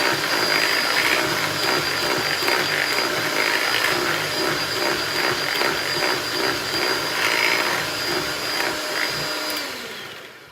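An electric mixer whirs loudly and steadily as vanilla is beaten into cake batter, the motor drone holding for about ten seconds before tapering off at the end.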